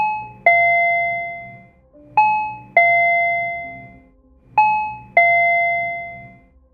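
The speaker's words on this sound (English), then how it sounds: "The woman rang the doorbell a second time" A home doorbell captured by a Ring camera chimes three times in a regular ding-dong pattern, each two-tone chime ringing out and decaying clearly before the next, with no speech.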